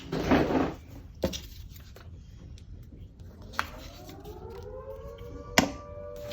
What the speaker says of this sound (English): the siren going, so that will be for maybe a car accident or something.